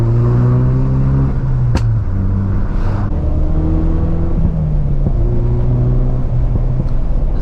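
A modified Ford Focus RS driving through a canyon with the windows down. Its engine drones steadily, rising and falling through gear changes, loud and close, with wind rushing past and no speech.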